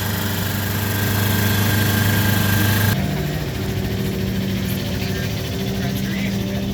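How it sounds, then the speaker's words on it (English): A track motorcycle engine runs at a fast idle on a trackday at Willow Springs, a loud steady droning hum with a strong low tone that drops slightly in pitch partway through, close and continuous. "There's revs going, fast idle right off the bat"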